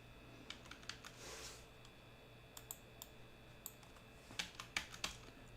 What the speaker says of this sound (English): Oh, is my keyboard finally dying?